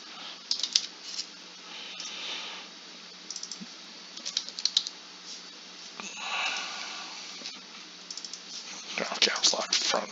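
Typing on a computer keyboard while labeling black heat shrink with white text for a wiring harness; soft, irregular bursts of key clicks come and go in clusters, close and fairly quiet, over a faint background murmur.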